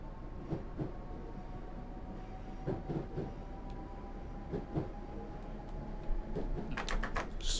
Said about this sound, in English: put the train into gear, and we're going to start accelerating